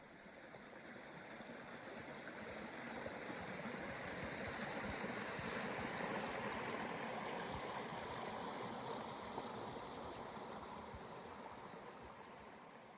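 Iron Creek running along a dispersed camping area, a steady broadband rush of flowing stream water that holds evenly loud and close for the whole stretch, with no voices over it.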